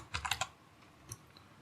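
Quick typing on a computer keyboard entering a short word into a website search box: a burst of four or five crisp key clicks, then a pause and one more tap, close and clear.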